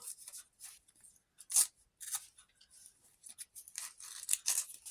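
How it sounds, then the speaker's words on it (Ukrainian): A small paper surprise packet is torn open at close range, making faint, intermittent crisp rips and crinkly rustles with short pauses between them. "Так, розриваємо пакетик."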